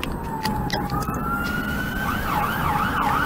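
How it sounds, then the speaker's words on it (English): An ambulance siren wails steadily from the road, its rising and falling tone growing louder and more agitated, heard over the constant rumble of passing traffic with no talking. "Isn't it an ambulance?"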